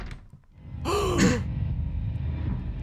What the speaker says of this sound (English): I hate it when he starts gasping because I know she's here somewhere.